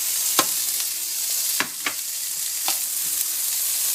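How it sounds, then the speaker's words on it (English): Bacon and onions sizzle in a frying pan, a close steady high crackle with a few sharp clicks and scrapes of stirring, no talking. "Who doesn't like the smell of onions and bacon sizzling away?"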